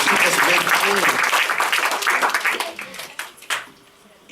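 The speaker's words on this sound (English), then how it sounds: "Give a round of applause for all the workers here." An audience aboard a cruise ship claps for the crew, a loud burst of applause with some voices mixed in that tapers off into a few isolated claps.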